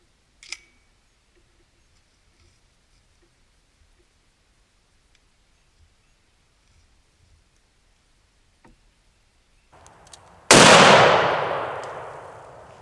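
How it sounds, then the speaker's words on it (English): A single loud shotgun blast of a 3-inch Apex 8s turkey load fired at a 20-yard patterning target outdoors, a sharp close boom with a long decaying tail after a few faint clicks and near silence. "We're going to be shooting the same gun the whole entire time today"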